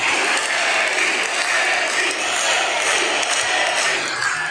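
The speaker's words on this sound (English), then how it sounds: "I took a video because like the sound of the crowd was so incredible" A baseball stadium crowd roars steadily for pitcher Severino, the loud, dense cheering and chanting sustained without a break and with no clear voices standing out.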